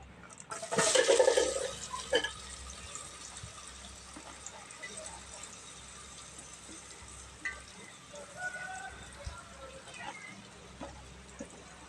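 Onions and green chillies hit a hot pan with a short burst of sizzling, which settles into a quieter crackle with a few scrapes as a voice talks over it.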